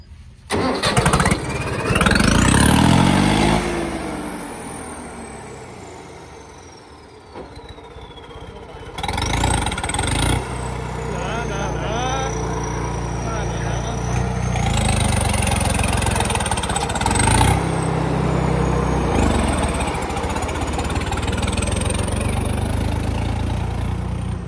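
Two tractors, a Tochan King and a Swaraj, start up and run, loud and close: a cranking start rises into steady diesel idling with occasional revs and a whining pitch that sweeps up and down throughout.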